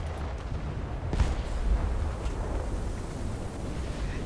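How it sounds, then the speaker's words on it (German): A continuous low rumble of distant explosions booms from a naval battle in War Thunder, with heavier thuds swelling and fading over steady roaring noise, no talking. "Nämlich drumherum explodiert anscheinend gerade die ganze Welt."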